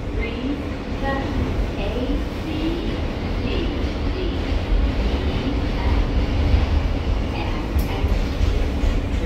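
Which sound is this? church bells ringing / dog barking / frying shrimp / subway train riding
subway train riding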